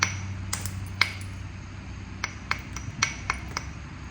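Stone is struck in flintknapping to bevel a platform edge, about a dozen sharp, close, bright clicks and taps at irregular intervals over a quiet background, with no talking.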